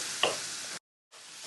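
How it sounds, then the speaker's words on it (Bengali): Spice masala is stirred and fried in oil for a Bangladeshi rui fish curry, giving a soft, close sizzle with a light utensil scrape. The sound cuts out briefly, then the quieter frying hiss returns. "মশলাটা একটু নেড়ে চেড়ে ভালো করে কষাতে হবে তেলটা ওঠা পর্যন্ত"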